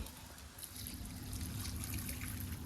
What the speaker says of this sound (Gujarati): એને ભેગા ભેગા પાણી નાખી દઈએ આપણે